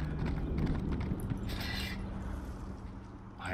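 A horse's hooves clip-clop in Elder Scrolls Online, a quick, steady run of hoof hits at moderate loudness with a faint mechanical creak and a brief rattle partway through.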